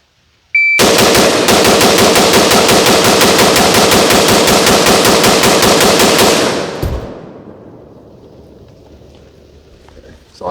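Rapid semi-automatic rifle fire rings out loud and close, a fast continuous string of shots for about six seconds as 30-round magazines are emptied, then stops and leaves fading echo.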